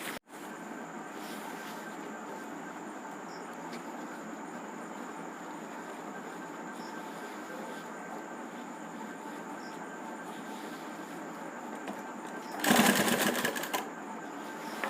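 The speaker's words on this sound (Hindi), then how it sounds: "अब हम यहाँ सिलाई लगा लेंगे।" A sewing machine runs steadily, stitching the seams of a kurti, a continuous even mechanical whir at close range that holds for most of the stretch, then swells into a brief louder burst near the end.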